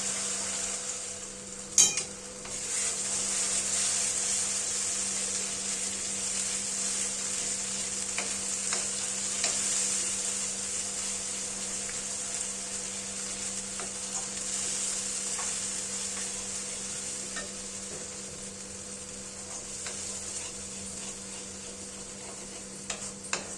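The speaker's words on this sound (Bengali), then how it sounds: "টমেটো ও মশলার যে পেস্টটা বানিয়ে রেখেছিলাম সেটা এবার আমরা এই তেলের ভেতর দিয়ে দেব।" Tomato and spice paste sizzles and fries steadily in hot oil in a pan while being stirred, a continuous close hiss with occasional small clicks and scrapes, no voices.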